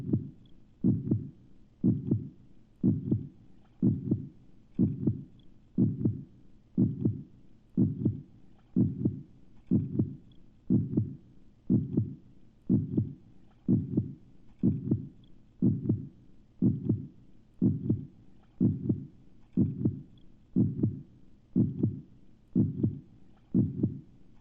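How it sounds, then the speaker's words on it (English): Recorded dolphin heartbeats pulse steadily and evenly, about one soft low thump per second, continuing alone for the whole stretch with a faint hum between beats. "let's practice counting some heart rates we got from our dolphins"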